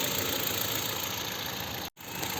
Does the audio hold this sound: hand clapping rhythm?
no